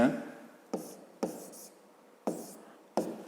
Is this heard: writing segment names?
yes